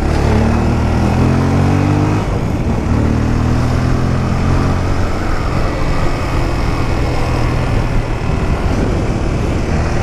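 A Honda Hornet motorcycle engine, recently serviced after two stuck valves, revs hard and loud right beside the listener, a dense continuous roar with rising and falling engine tones throughout and no voices.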